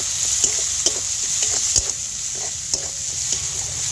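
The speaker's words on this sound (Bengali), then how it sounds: "অল্প লঙ্কা গুঁড়ো, অল্প ধনে গুঁড়ো আর অল্প জিরে গুঁড়ো। এবার একটু ভালো করে কষিয়ে নেব মশলাটা।" A spiced masala of chili, coriander and cumin powders sautés in hot oil with a steady bright sizzle and a hiss, while a spoon knocks and scrapes the pan every half second or so.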